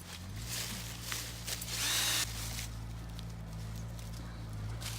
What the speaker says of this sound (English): You take the drill, you drill upward at a slight angle.